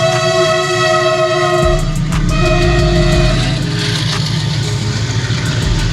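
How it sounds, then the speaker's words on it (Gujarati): A freight train arrives at a level crossing, its loud horn sounding in long sustained tones over the heavy rumble of the wagons rolling past close by. "જો ટ્રેન આવી ગઈ છે."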